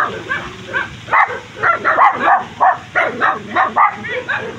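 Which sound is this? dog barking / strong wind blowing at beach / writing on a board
dog barking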